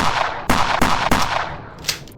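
Gunfire in the Roblox game Terminal: three loud, sharp shots fired in quick succession, then a fainter fourth report, with no talking.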